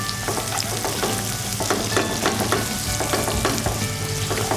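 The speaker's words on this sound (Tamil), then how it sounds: "ஸ்லைஸ் ஆனியன் சொன்ன மாதிரி நீங்கள் வந்து இந்த ஆயிலில் வந்து நல்லா ரோஸ்ட் பண்ணி எடுக்கணும்" Sliced onions frying in oil for yakhni pulao, a steady dense sizzle with intermittent stirring scrapes, close and loud, with no voices.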